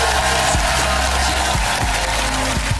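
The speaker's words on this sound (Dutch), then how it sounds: "Een groot applaus, dames en heren, voor Maria Mostert." A television studio audience applauds steadily with a thick, even wash of clapping, a low musical tone running underneath.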